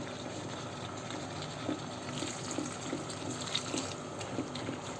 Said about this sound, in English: We'll be adding some water, guys.